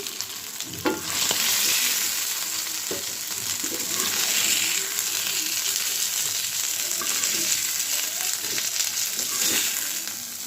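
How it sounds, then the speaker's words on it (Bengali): Half a hilsa-sized fish, a whole medium hilsa cut up, lightly frying in hot oil in a pan, a steady close sizzle with intermittent stirring clatter throughout, no talking. "মাছটা আমি হালকা ভেজে নিই"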